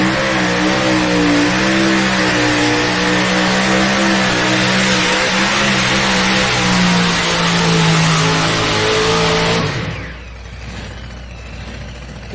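A pulling tractor's engine roars loud and sustained through a tractor pull run at the Super National in Bowling Green, Ohio, its pitch wavering under load before cutting off abruptly near the end.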